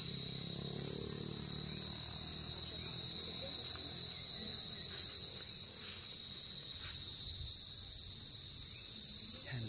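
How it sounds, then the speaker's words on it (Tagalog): Crickets chirp steadily on a hillside at Lambingan Hills in Tanay, Rizal, at night, a dense continuous high trill with a low rumble of ambient noise underneath and no voices. "may kuliglig na"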